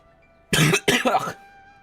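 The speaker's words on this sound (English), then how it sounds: "this cough is actually annoying me." A player's voice lets out two quick, close coughs in a row, sharp and loud against near silence, during a Genshin Impact story session.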